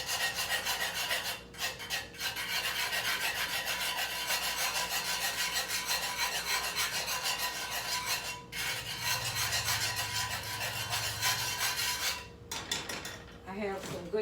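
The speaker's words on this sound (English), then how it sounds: "Then I'm going to go ahead and whisk the bottom of it." Whisk scraping the bottom of a pan of condensed broccoli and cheese soup, a steady rubbing rasp running nearly throughout with a couple of brief pauses, close and fairly quiet, with no talking.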